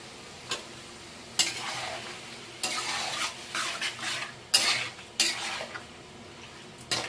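Chicken liver and gizzard are stir-fried in a large kadai for a roadside-style dish: repeated bursts of a ladle scraping and clanking against the metal over a steady oily sizzle, heard up close.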